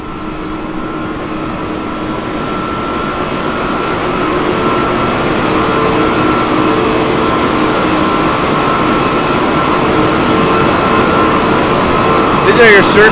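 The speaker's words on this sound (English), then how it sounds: "These are your Cirque water pumps." Circulating water pumps driven by 2,000 horsepower motors at a coal-fired power plant, cooling the surface condenser, give a loud, steady industrial roar with constant hum that swells slightly and holds throughout, with faint talk.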